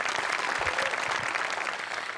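Audience at a Marathi comedy stage show claps loudly and steadily, a dense, sustained round of applause filling the whole stretch without pause.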